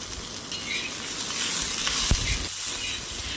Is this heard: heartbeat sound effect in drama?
no